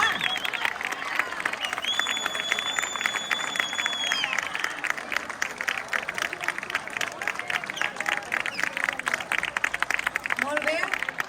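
An audience applauds musicians at the close of a school Sant Jordi celebration, with dense sustained clapping throughout, a few whistles and scattered cheers rising above the crowd.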